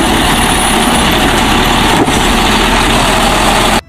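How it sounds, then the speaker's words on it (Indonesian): A toy garbage truck gives off a steady, loud synthetic engine rumble that stays level for several seconds and then cuts off abruptly. "Wow, ada mobil truk sampah."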